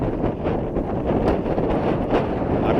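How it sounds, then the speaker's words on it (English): Strong mountain wind on the Longs Peak trail buffets steadily and loudly across the microphone, a constant rough rushing roar with gusty swells. "It's very windy up here, as you can tell."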